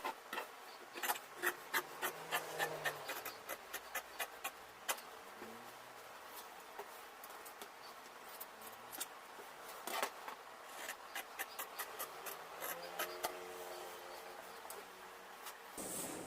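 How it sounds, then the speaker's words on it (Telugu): Fabric for an A-line top is cut, giving a long series of crisp, evenly paced snipping and rasping strokes close by, with a few scuffs of handling in between. "ఇప్పుడు దీన్ని కట్ చేయండి."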